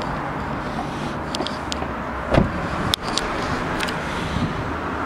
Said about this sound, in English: Car benefits from a power boot.